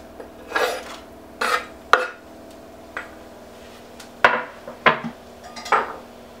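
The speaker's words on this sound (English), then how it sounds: "Now add the garlic, ginger and chilli." Several sharp metallic clinks and scrapes of a utensil against a hot pan as garlic, ginger and chilli go in for a pork stir-fry, spaced irregularly and fairly close, with no talking.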